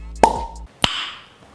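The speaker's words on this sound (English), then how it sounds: "we are going to open this bottle of wine" A wine bottle is uncorked in a kitchen, giving a sharp, close pop followed a moment later by a second bright pop and a fading hiss-like tail.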